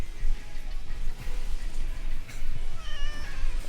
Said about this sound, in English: Do you see him meowing into the mic?